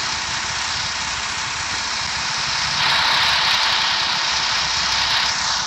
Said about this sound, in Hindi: तो अपने 605 ट्रैक्टर की आवाज़ चेक करो भाई पूरा घंट ट्रैक्टर साउंड चेक करो